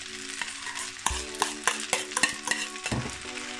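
Spaghetti, frying bacon and poured-in eggs for carbonara are stirred in a hot pan, bringing steady sizzling and repeated sharp knocks and scrapes of a utensil against metal, close and without speech.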